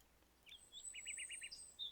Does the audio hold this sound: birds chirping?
yes